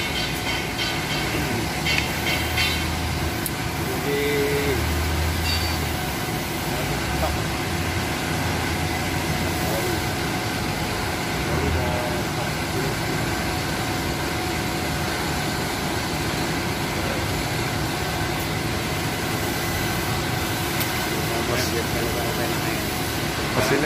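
Loud, steady rumble of heavy old machinery running continuously, with a mechanical drone and clatter throughout and occasional voices underneath.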